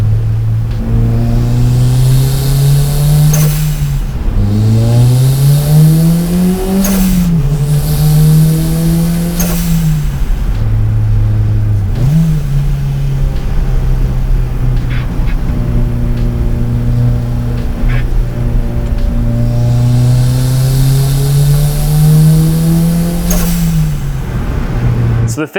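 A turbocharged Honda Fit with an HKS blow-off valve revs up and down repeatedly on a mountain touge road, its engine note climbing and dropping in several loud, close pulls without speech.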